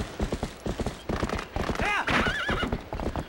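Horse from Zelda: Twilight Princess galloping in a steady clip-clop while whinnying loudly partway through, close up, with game sound around it.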